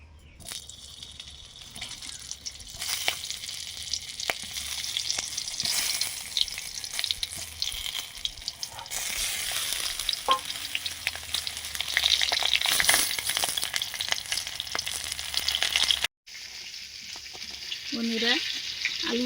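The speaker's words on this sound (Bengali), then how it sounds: "পুর ভরা পটলগুলো এখন ভাজবো" Stuffed pointed gourd (potol) with a prawn filling fries in hot mustard oil, giving a loud, steady sizzle with crackling bursts that runs almost unbroken. A brief cutoff comes near the end before the sizzle resumes.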